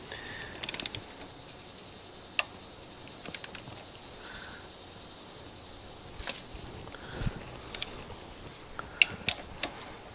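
A ratchet wrench tightening a 21 mm camshaft bolt on a Ford 2.0/2.3 EcoBoost engine, with short bursts of clicking spread across a quiet stretch and a few sharp metallic taps.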